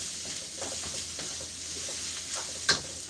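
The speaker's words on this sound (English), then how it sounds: "So I'm adding some coconut powder. And then I'm going to saute." Coconut powder and rice being sauteed in a wok for spicy mango cilantro lime rice, giving a soft steady sizzle with faint scraping stirs and one sharper clink near the end, no talking.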